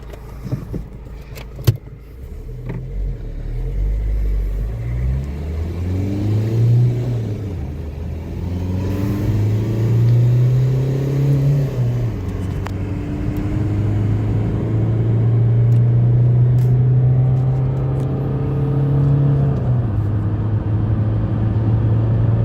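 A Renault car, recently repaired for an injection fault, runs and revs while driving on a winding road, its engine rising and falling in pitch with several acceleration pulls and a steady droning hum, close and loud inside the cabin.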